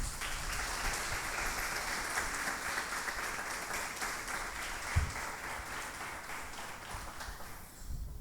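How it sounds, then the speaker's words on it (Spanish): A church congregation claps steadily at a sermon for several seconds, a dense and fairly quiet patter of hands that tapers off near the end. "Denle un aplauso al Señor"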